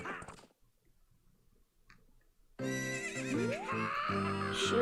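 A horse neighs in Ocarina of Time, a short whinny at the start, then silence before loud game music with a rising tone takes over.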